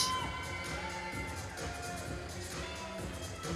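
Crowd cheering at the 2014 IPC Swimming European Championships in Eindhoven, a continuous distant roar of indoor spectators with whistle-like tones, steady and moderately loud.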